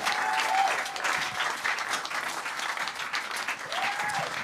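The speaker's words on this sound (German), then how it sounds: "Gerne einmal noch einen Applaus" Audience applause at an unplugged live music event in a Ludwigsburg venue, lively clapping from a crowd lasting a few seconds, with a brief whistle and some faint voices mixed in.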